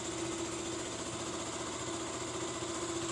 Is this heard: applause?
no